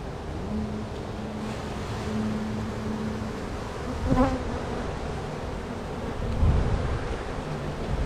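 Honey bees buzz around a backyard hive in a steady, continuous drone, with brief louder passes of single bees close by and a soft breezy wash underneath.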